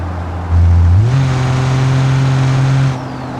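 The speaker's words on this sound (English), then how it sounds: "in-game truck, but the sound pack I have on is a Cummins diesel." An in-game truck fitted with a Cummins diesel sound pack revs up, its engine note climbing in pitch and holding steady at a loud, close rumble before easing back down, with no talking.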